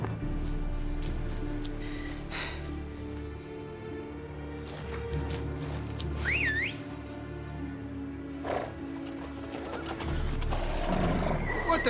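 Horses neigh and whinny close by, and one clear high whinny rises above a low rumble and scattered hoof clops in a medieval game scene. A short burst of speech comes near the start.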